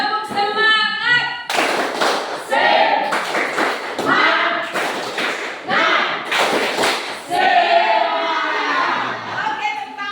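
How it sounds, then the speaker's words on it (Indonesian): Schoolchildren in a classroom clap their hands in rhythmic bursts of patterned claps and thumps, broken by gaps, with a voice speaking in between. "tepuk tangan untuk kita semua"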